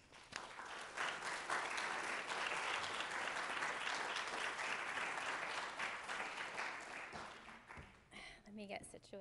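Lecture-hall audience applauding to welcome a speaker at an art-history talk on Picasso, Rivera and the Cubist still life: steady, dense clapping that lasts several seconds, then thins out as a few voices and movements start at the end.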